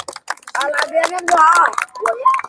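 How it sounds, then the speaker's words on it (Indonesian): A class of students claps hands in a school floor-gymnastics lesson, quick irregular clapping spread across the group, close and lively, mixed with children's voices talking and calling out over it. "Oke, tepuk tangan semua."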